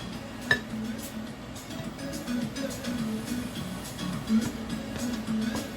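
A spoon clinks against a bowl while mixing a filling for Trini aloo pies, giving sparse light taps over a low background hum, including one sharp clink near the start.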